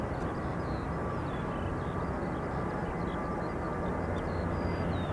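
A Ryanair jet departing Dublin Airport for Gatwick gives a continuous, moderately loud broadband engine roar, with faint bird chirps above it and no voices.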